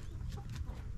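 Chickens on a home compound clucking close by, a steady low burble of hen sounds that fills the moment with no talking.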